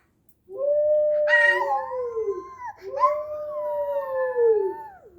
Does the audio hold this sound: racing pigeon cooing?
no